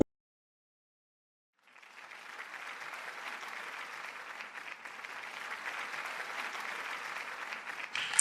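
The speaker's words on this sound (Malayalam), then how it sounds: "എൻ്റെ കമൽജി എണീറ്റ് നിന്ന് ക്ലാപ്പ് ചെയ്യുന്നു" Audience applause at the SIIMA 2025 awards show as Kamal Haasan stands to clap, beginning after a moment of silence and swelling into steady, sustained clapping from a large crowd.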